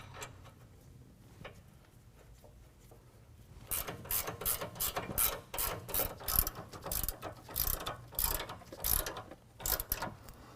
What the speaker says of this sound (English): Then we can put our tires back on.